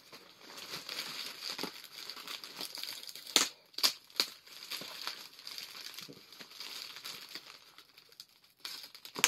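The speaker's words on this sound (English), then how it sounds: "I've got to cut the film off of the box because the set of tape is straight onto the film" Sellotape peeled and plastic film crinkled on a mystery box, a close run of crackling and tearing rustles with a few sharp, louder snaps and no talking.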